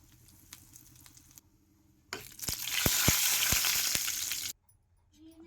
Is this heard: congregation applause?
no